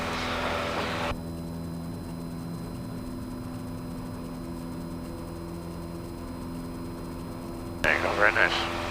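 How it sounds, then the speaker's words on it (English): Small training airplane engine at takeoff power during the takeoff roll, a steady droning hum with a faint higher whine, and a voice briefly speaking at the start and end. "Airspeed's alive, so you're committed for the takeoff."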